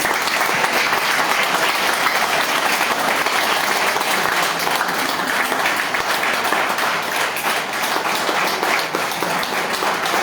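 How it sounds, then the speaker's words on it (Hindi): Loud, dense applause from a seminar audience, honouring achievers and millionaires at a Yashbeej Marketing life-change event, sustained steadily from start to finish with no pause. "करोड़पति के लिए एक जोरदार ताली हो जाए"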